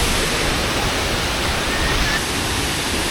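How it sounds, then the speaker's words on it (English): Large waterfall at Doi Inthanon, Thailand's highest peak, roaring as a steady, dense wash of broadband noise, close and loud throughout with no break. "this is waterfall."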